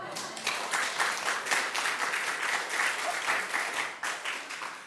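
A church congregation applauding during a sermon, dense sustained clapping from a large hall that rises quickly and holds steady before tapering off near the end.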